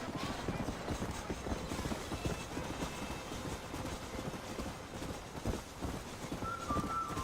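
Horse hooves clip-clop in a Western-style open-world video game, a steady rapid gallop rhythm that carries unbroken through the whole stretch under a busy game soundscape.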